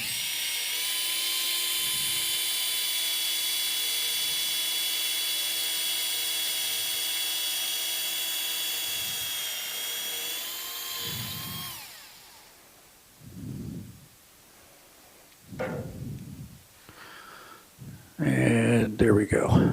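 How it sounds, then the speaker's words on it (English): A high, steady whine of a drill boring an entry hole into a wooden birdhouse ornament for about twelve seconds, then stopping, followed by scattered knocks and rustling handling sounds. "And then you drill your entry hole."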